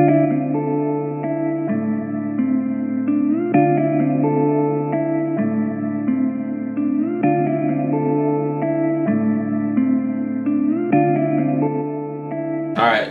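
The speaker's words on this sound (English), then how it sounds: "Add some reverb to that because, you know, you can never go wrong with reverb" Synth chords play in a steady repeating progression for a trap beat, each note trailing off in a washy reverberant tail, with a brief rising swoosh at the end.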